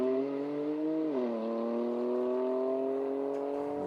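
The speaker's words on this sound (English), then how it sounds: "Raucous sound from the BMW M4." A BMW M4 race car with a 3-litre turbocharged six-cylinder engine at a sprint event, heard as a loud, raucous engine note that stays steady, dips briefly, then rises again.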